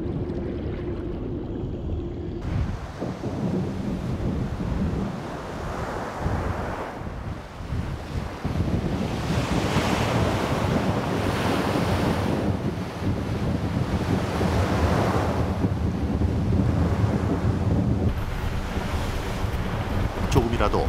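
Rough sea off Palau on a windy day, waves surging and breaking in repeated washes beneath strong, steady wind buffeting the microphone, loud and continuous throughout.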